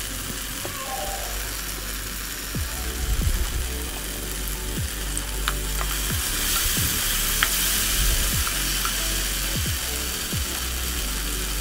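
Masala and tomato ketchup stirred in a frying pan for a vermicelli pasta dish, giving a steady close sizzle with repeated spatula scrapes and clicks against the pan, no talking.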